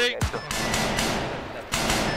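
Bursts of suppressing gunfire in a tactical shooter game crack out in a few sharp volleys over a couple of seconds, close and loud, with a voice talking around them.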